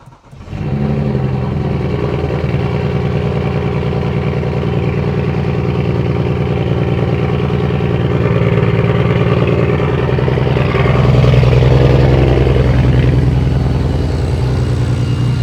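Big-turbo BMW 335xi engine idling steadily after starting, a dense low rumble with mechanical clatter that swells slightly louder near the end, close by with no talking.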